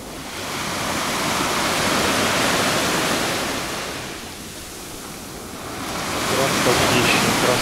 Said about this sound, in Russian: Красотища, наслаждайтесь этими волнами